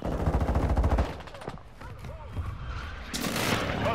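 An allied airstrike in Call of Duty, with rapid rhythmic blasts and gunfire in the first second, then rumbling explosions and a burst of debris noise, while a voice speaks over the battle.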